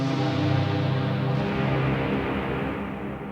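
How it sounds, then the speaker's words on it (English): A Knobula Monumatic synthesizer sounds a dense sustained chord with its reverb set to a long time, so a smooth wash hangs on and fades slowly over about three seconds. No one talks. "So you can hear this reverb is capable of quite long tails."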